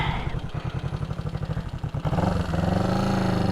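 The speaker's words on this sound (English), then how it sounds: "Maybe the idle's a little low, but it's not the worst." A small 360 motorcycle idles nearby, a steady low putter with a slightly low, uneven beat, shifting to a fuller, smoother engine tone partway through; no one talks.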